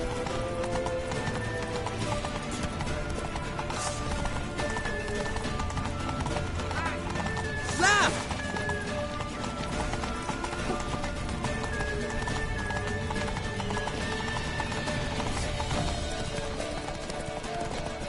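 A galloping horse in The Witcher 3, steady rapid hoofbeats driving continuously throughout, with a whinny around the middle, layered under game music and ambient sound effects.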